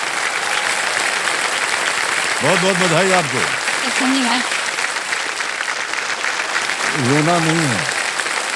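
Studio audience applause on an Indian quiz show, continuous clapping throughout with a host and contestant speaking over it in short exchanges.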